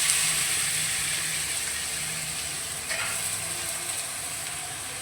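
Radish pieces sizzle in a hot pan during vegetarian Bengali cooking: a steady, hissing fry with a brief louder burst of sizzle partway through, and no talk.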